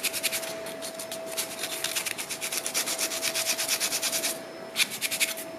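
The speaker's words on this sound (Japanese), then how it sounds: "ここも 細くしていこうと思うとかなり これで削り落とさなきゃいけない" A hand tool rasps back and forth against a wooden fork, thinning a thick middle tine toward its base; quick rhythmic scraping strokes come in a dense run, pause, then resume briefly, close and clear with no talking.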